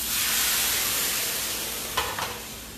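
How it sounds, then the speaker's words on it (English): A hot pan sizzles steadily after mushrooms have been cooked in it, a loud broad hiss with a couple of sharper bursts near the end as liquid goes in to deglaze, no talking. "So we're going to deglaze this."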